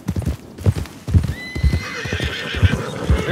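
A horse's hooves clip-clop in a steady close rhythm, then the horse lets out a long loud neigh over the continuing steps, with no clear talk.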